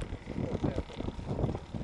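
Strong wind rushes across open sea and buffets the microphone in steady, rumbling low gusts with no clear pauses, loud and close for under two seconds.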